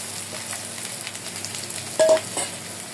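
Prawns fry with softened onion and green chillies in a pan, a continuous sizzle with a couple of brief stirring scrapes near the end; no one speaks.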